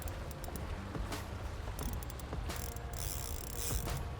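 A fishing reel's drag is backed off while playing a big snook on Florida's west coast, giving a run of close, rapid ratcheting clicks against steady boat and water noise.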